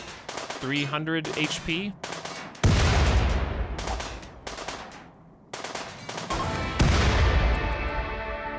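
Explosion and rapid gunfire in the video game RimWorld, loud dense bursts with booming low-end impacts and long rumbling tails, following a brief stretch of talking at the start.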